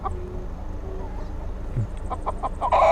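A couple of chickens shut inside box bags on a motorcycle trip toward Bogota give muffled clucks, a short burst of soft, close clucking near the end over a low, steady background.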